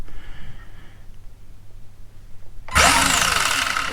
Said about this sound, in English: Now I'll see if the motor and ESC work.